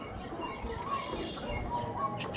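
Soft chirps and faint flutters come from a male Andhra pigeon of the Kalshira type with orange eyes, kept among other pigeons; the calls are quiet and scattered over a low, steady background.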